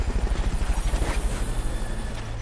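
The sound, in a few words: Fulton recovery helicopter in Metal Gear Solid: Peace Walker video game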